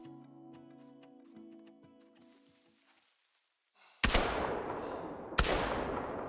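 Two loud, close blasts from a 10 gauge semi-automatic shotgun loaded with buckshot, fired about a second apart during a Call of the Wild hunt, each with a sharp crack and a long decaying tail after a stretch of quiet ambience.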